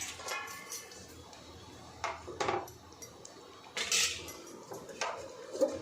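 Metal lid and utensils clatter against a pot of drumstick and moong dal curry with coriander, several sharp clanks and scrapes spread across the moment, close and fairly loud with no talk.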